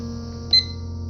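A kitchen timer gives one short, bright beep over a low background hum.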